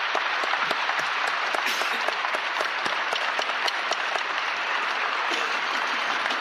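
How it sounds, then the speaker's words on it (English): A large audience at a military academy graduation ceremony claps steadily for the national anthem singer and honor guard, a dense, even roar of hands that holds throughout. "let's give a round of applause to the National Anthem, Sergeant Kelly Perry and the National Honor Guard."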